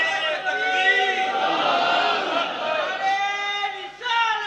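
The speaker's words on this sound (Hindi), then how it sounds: "सहाबा ने जोश नाल नारा मारिया, उमर आ गया, उमर आ गया, उमर आ गया।" A crowd at a religious gathering chants a takbeer slogan in loud, sustained unison voices that rise and fall, with a short surge near the end.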